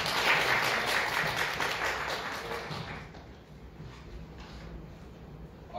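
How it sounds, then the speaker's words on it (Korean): An audience at a Korean academic lecture applauds a speaker's introduction, a full burst of clapping that gradually thins and fades out after a few seconds. "큰 박수 부탁드립니다."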